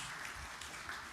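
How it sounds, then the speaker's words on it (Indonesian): Faint, steady applause from a church congregation during an Indonesian sermon, a soft wash of clapping throughout with no speech over it. "kita beri tepuk tangan yang meriah bagi Tuhan Yesus"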